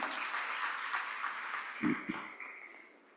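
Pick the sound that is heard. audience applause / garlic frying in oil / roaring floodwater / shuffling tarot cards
audience applause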